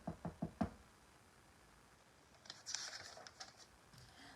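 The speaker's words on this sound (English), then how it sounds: "so he knocked on the door and asked for something to eat." Four quick knocks rap on a cottage's wooden door, close and distinct at the start, followed by quieter light tapping and rustling.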